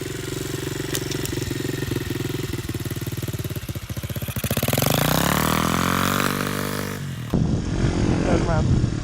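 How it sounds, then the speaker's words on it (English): A Demon DXR 125 pit bike with the choke half on is started and runs, its single-cylinder engine idling steadily before rising in a swelling rev, with a sharp change near the end as it settles. A voice talks over it. "we're going to just start the bike so you can just see how loud it is really"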